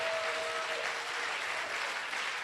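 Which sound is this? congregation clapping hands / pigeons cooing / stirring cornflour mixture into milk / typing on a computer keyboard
congregation clapping hands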